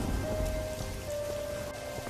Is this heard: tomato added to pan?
no